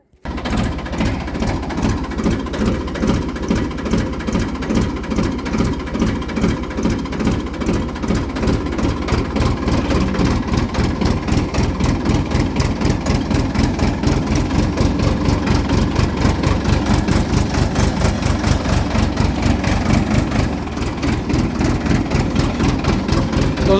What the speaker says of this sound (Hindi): चलते हैं ट्रैक्टर को लेकर।